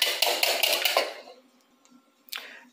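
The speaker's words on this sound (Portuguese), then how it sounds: "Vamos bater três ovos" Three eggs are beaten in a bowl with quick, rhythmic clinking and scraping for about a second, then it stops, leaving near silence broken by a faint later clatter.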